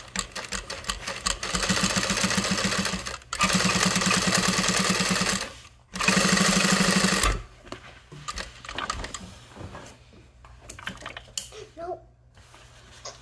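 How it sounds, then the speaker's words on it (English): A sewing machine top-stitches the exterior side panels of a tote bag in three close, steady whirring runs. Quieter handling noises and soft movement follow. "Top stitching on the exterior side panels."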